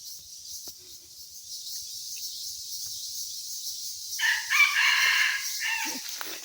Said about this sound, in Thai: ไก่นี่แหละ